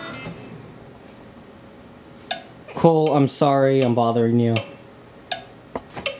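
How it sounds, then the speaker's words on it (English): Light rhythmic tapping for music theory homework sounds in the background, sparse faint clicks around a stretch of close, clear talking. "Rhythm tapping."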